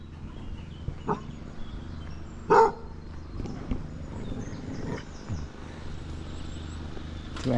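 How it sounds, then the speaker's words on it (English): Two angry dogs bark in the distance, in the countryside near Fritton round tower church. The barks are short and scattered, with one louder burst partway through, over quiet outdoor background noise. "Two angry dogs."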